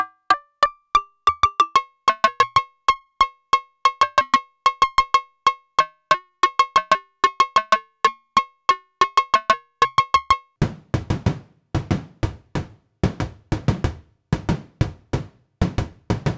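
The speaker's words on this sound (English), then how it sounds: "This could be another snare sound with a lot more room than the first one." Synthesized snare from Bastl Noise Square and Cinnamon modules: a run of sharp, ringing pitched pings gives way to loud, roomy, noisy drum hits repeating in a quick electronic pattern, with no voices.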